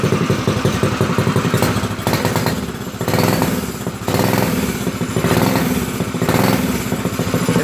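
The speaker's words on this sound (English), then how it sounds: "let me give it a throttle so you can hear it." A custom bar stool racer go kart engine runs loud and close, its rough buzzing motor rising and falling through repeated throttle revs over several seconds.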